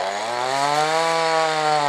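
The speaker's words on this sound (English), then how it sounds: "Somebody's just come on the lake with a chainsaw." A chainsaw cuts trees near a lake, its engine held at a steady, loud, unbroken whine for the whole stretch with no talking.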